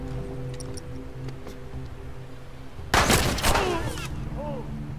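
Gunfire in the video game The Last of Us, a sudden loud burst of several close shots around the middle, with sharp bright cracks over a low game ambience and background music.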